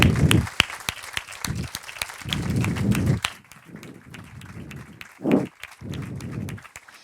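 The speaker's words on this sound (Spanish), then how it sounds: "yo les voy a pedir para empezar un fortísimo aplauso para las actrices que nos acompañan hoy, para Sigrid Eugel y para Paula Campos." An audience at a film forum claps for visiting actresses, bursts of applause swelling and fading in waves with a few sharp individual claps.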